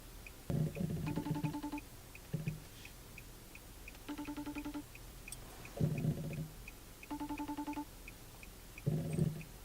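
An outgoing phone call rings unanswered, with repeated pulsed ringback tones in regular bursts alongside a steady faint beep, over quiet background and soft movement.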